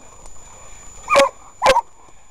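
A female hunting dog on a wild boar trail gives two loud, sharp barks about half a second apart, heard outdoors close up with no talking over them.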